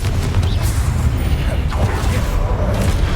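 Confringo blasting spells explode in the Hogwarts Legacy video game during a statue fight, a continuous heavy booming rumble with sharp bursts and whooshes layered over it.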